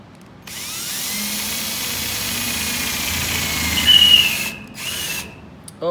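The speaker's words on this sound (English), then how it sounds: "So I'm gonna get this hole cut" A power drill cuts a hole in a galvanized steel stock tank, a loud, steady whine running for about four seconds with a brief sharp squeal near the end before it stops.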